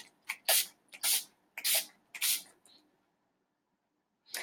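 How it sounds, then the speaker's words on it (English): Makeup finishing spray misted onto a face from arm's length in a series of short, close hissing pumps, five quick bursts, then a pause and one more. "we're going to take this makeup finishing spray and we're going to hold it like arms length out"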